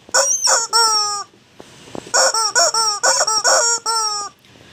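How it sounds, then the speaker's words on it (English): A rooster crows loudly and close, first in a short burst and then in a longer drawn-out crow, with strained harmonic squawks and a brief pause between the calls. "Rooster."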